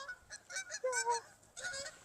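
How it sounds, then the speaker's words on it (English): Geese honk in a short burst of several nasal calls, moderately distant and fairly quiet. "Geese."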